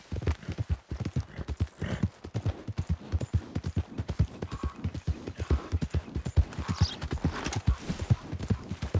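Steady clip-clop of horse hooves from a ridden horse in a video game, a brisk, even rhythm of sharp hoof strikes that runs unbroken from start to finish.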